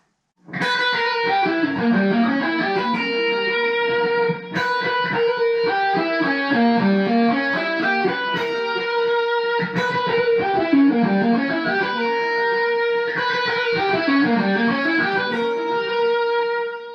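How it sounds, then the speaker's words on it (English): A distorted electric guitar plays fast, flowing arpeggiated runs, up close and steady with no talking. "here's a clip of me playing that electric guitar with distortion"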